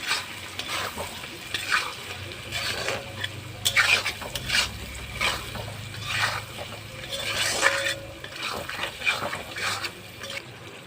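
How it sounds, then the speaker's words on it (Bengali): Potatoes with masala and salt being sautéed in a pan for a bhola fish oil-and-chilli curry, a steady sizzle with repeated scraping stir strokes every second or so, close and alone. "এবার ভালো করে কষিয়ে নেব।"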